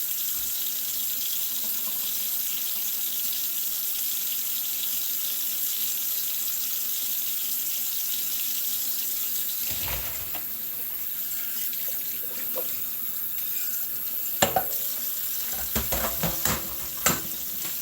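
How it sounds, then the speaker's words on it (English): Tap water runs steadily into a kitchen sink to rinse sweet potatoes, a constant close hiss with a few clunks and handling knocks toward the end. "The water's going to be running for a minute because I'm going to rinse these sweet"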